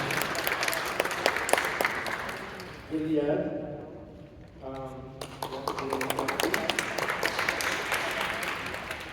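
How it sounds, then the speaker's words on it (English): A crowd at a church memorial evening for trans people lost to hate claps for the hosting church. A clattering burst opens and closes the stretch, a voice and tonal sound fill a short lull mid-way, and talk runs alongside. "Give them a round of applause for hosting us tonight"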